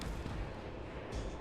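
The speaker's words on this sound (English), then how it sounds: "Oh no, they're using their grenades." Grenades burst in battle in the Warhammer 40k: Rogue Trader game, a quick, dull, rumbling blast that is muffled and low in level and lasts only a moment.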